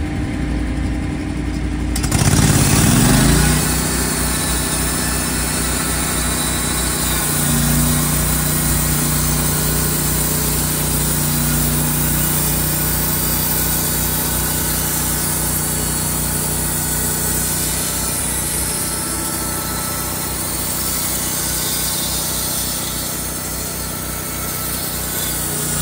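A Vallee sawmill runs through a log, cutting two-inch slabs: a loud, sustained engine-driven saw whine that starts abruptly after a short lead-in and holds steady for over twenty seconds, with no talk.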